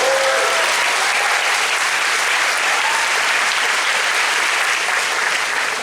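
Audience applause fills a fan convention panel at SpaceCon, a dense, steady wash of clapping that stays loud and close for the whole stretch with no break.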